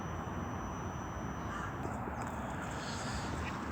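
Crows caw on a sunny day on the streets of Kyiv, a few calls rising over steady outdoor street noise, moderately distant with no talking.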